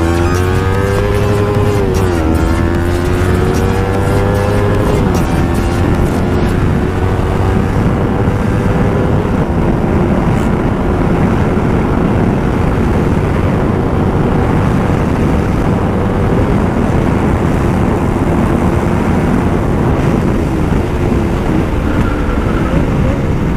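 A motorbike ridden along a scenic road: the engine revs up in rising pitch at the start, then settles into a steady drone under loud, constant wind rush for the rest of the ride.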